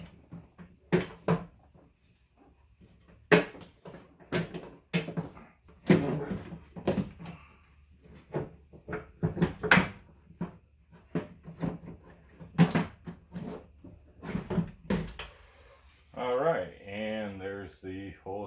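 A power window regulator assembly is worked out of the door of a 2000 Hyundai Sonata, giving a series of close, sharp knocks, clunks and scrapes of metal against the door panel, with a brief rattling buzz near the end.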